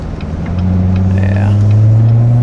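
Lowered modified car fitted with a cold air intake, its engine holding a steady loud drone with a brief rising rev whine partway through, exhaust and blower noise blending into a constant close rumble.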